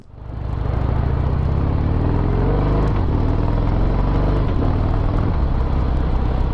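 Harley-Davidson CVO Pro Street Breakout motorcycle with a solid-mounted, counterbalanced big-bore V-twin, rumbling loud and close as it builds from a quieter start into a steady, heavy engine drone, with no talking.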